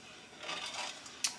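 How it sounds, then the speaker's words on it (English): A spoon stirs salt in a hot, sizzling pan, giving a faint steady hiss with a single light metallic clink near the end. "I'm going to just grab a spoon like this and start mixing"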